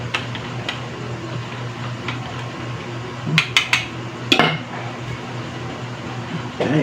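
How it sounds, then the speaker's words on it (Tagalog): Kutsinta batter made with powdered milk being stirred in a bowl, soft continuous swishing with a handful of sharp clinks of utensil against the container, close and fairly quiet. "ating haluin muna natin mga mare mga pare para hindi mamuo"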